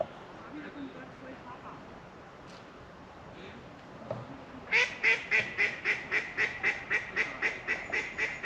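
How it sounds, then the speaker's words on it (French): Quiet outdoor ambience at a pond gives way to a run of rhythmic, nasal duck quacks repeating steadily, close and loud, over faint background noise. "des canards et autres qui sont venus me rendre visite"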